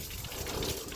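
Water splashes and trickles over a pig's body while it is being cooled in hot weather, a steady close wet pouring with low grunting or movement underneath.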